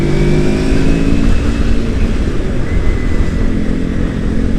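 A motorcycle rides through Bandung city streets, giving a little throttle before a traffic light. The engine drones loud and close over constant road and wind noise, with no talking.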